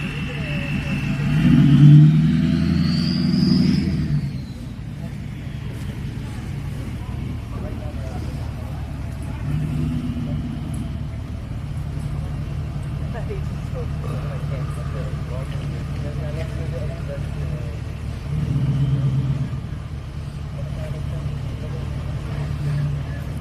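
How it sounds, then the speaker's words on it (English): A tow truck passes on a street during police activity, its engine swelling loudly and then fading, with more vehicle noise rising again later under ongoing traffic hum and people talking nearby. "Another tow truck."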